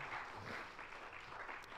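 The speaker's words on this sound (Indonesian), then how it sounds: "Beri tepuk tangan yang meriah buat Tuhan." A church congregation at a worship service claps in a faint, continuous wash of applause, distant and even throughout.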